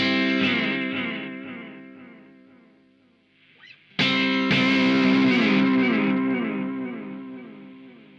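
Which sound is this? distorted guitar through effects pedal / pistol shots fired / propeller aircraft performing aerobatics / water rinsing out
distorted guitar through effects pedal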